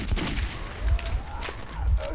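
Gunfire in the video game Metro 2033: a few heavy, low booming shots at irregular intervals over a dense, noisy game soundscape, with no talking.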